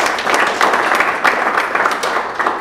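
An audience claps to welcome the speaker Jeremy, with brisk, fairly close applause that keeps a steady, slightly uneven rhythm throughout.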